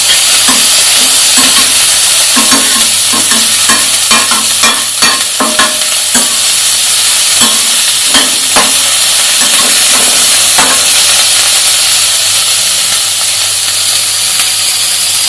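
Mixed vegetables including capsicum frying for masala rice, stirred in a pan with a steady close sizzle and hiss, broken by repeated scraping strokes of the spoon through the first half before the sizzle settles into a continuous hiss.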